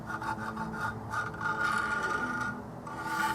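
Spring gauge dividers being adjusted for knife-kit work give a close, continuous ratcheting, rasping rub of metal threads turning, with faint rhythmic clicks and no talk.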